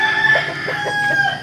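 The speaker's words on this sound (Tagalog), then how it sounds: "Yan, mga alaga nating manok yan." Backyard pet chickens cluck and crow continuously, fairly loud and close, with no talking.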